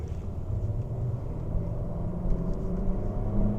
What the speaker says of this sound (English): it is a 4-cylinder, but it runs pretty smooth for a 4-cylinder